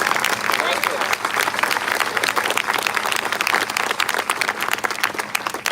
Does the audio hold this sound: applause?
yes